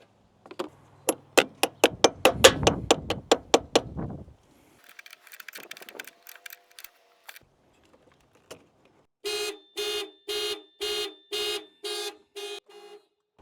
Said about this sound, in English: Be prepared to shut the alarm off.